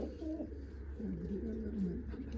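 Pet pigeons coo softly nearby in low, rolling murmurs, a couple of throaty calls against a quiet background hum.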